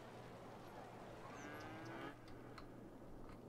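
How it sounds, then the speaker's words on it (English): Cattle in the city-building game Cities: Skylines let out a single drawn-out moo, quiet and somewhat distant over a low steady background hum. "Are they mooing?"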